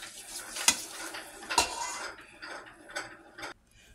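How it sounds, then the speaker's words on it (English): A roux being stirred in a big pot, a spoon scraping and clinking against the metal in a few sharp knocks over a soft, steady kitchen murmur, with no talking. "we're gonna make a roux until it get a little more darker than this"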